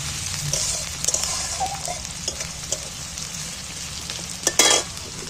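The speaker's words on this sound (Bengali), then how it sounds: "দেখো পেঁয়াজটা কিন্তু আমার অনেকটাই লাল লাল করে ভাজা হয়ে গেছে।" Sliced onions fry steadily in hot oil until reddish-brown, a continuous close sizzle with occasional louder crackles and a brief stir near the end, with no one talking.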